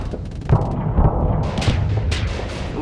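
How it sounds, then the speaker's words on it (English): Heavy booming explosions from torpedo bomber hits in the space combat game Starsector, a dense rumbling barrage of overlapping blasts with sharp impacts throughout. "Ooh, torpedo bomber hit."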